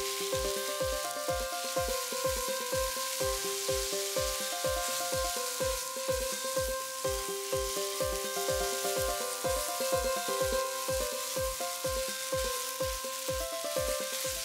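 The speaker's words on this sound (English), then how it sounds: "Now, add 1 cup of grated raw mango. Fry again until the raw smell goes." Grated raw mango frying in a pan, a steady soft sizzle under a regular thumping beat and looping background melody, even and continuous for about fourteen seconds.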